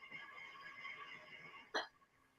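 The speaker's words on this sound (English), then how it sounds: "He's got the hiccups." A person with hiccups gives one short, abrupt hiccup near the end, faint and close, after a stretch of low background murmur.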